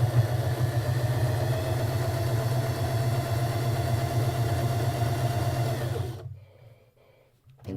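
A home sewing machine stitches a quilt patch block under foot-pedal control, a loud steady mechanical whir that runs evenly for about six seconds, then stops abruptly into near silence.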